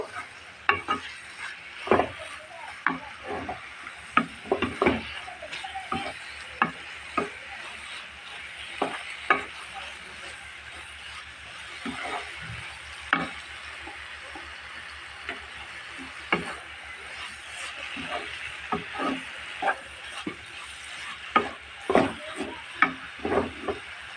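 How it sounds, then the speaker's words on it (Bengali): Shrimp and cabbage stir-fry in a pan with coriander leaves: a low, continuous sizzle broken by frequent sharp spatula clicks and scrapes against the pan, close and fairly quiet, with no voices. "আর একটু সুন্দর ভাজা ভাজা করব"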